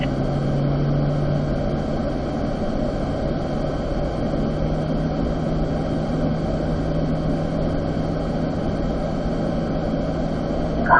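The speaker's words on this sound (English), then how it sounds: "we'll gradually get it up to 4th gear here" A car out on a race track gives off a steady, loud engine drone with a constant low hum, holding an even level throughout with no voices over it.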